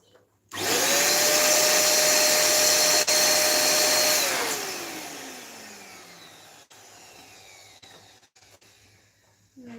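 An electric balloon inflator blasts a loud, steady whirring hiss for several seconds, then winds down slowly into a fading hum, with brief clicks and handling sounds afterward.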